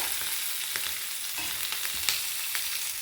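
Chopped onions and green chillies sautéing in a pan for a bitter gourd stir-fry, a steady close sizzle of frying with intermittent scrapes of stirring throughout.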